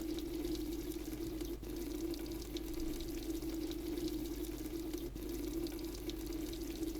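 Fuel or liquid pouring into a vehicle tank in the Roblox game A Long Road: a steady, continuous game-audio pour with a constant tonal hum beneath it, no voices.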